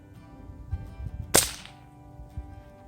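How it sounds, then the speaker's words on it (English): A single sharp crack of a Umarex Syrix pellet gun fired into dirt snaps out mid-clip, brief and bright, amid quiet outdoor rustling and soft thumps. "I'm just gonna shoot into the dirt."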